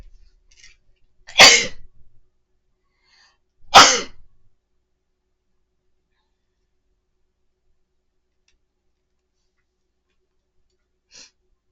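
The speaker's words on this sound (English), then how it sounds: "And I'm gonna sneeze, excuse me." Two loud, sharp sneezes close to the microphone, a couple of seconds apart, surrounded by near silence.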